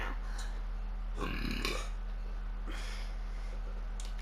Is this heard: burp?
yes